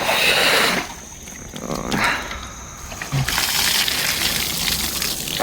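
Water is poured over someone bathing outdoors in cool weather, heard as loud splashing gushes at the start and again toward the end, with a quieter stretch in between.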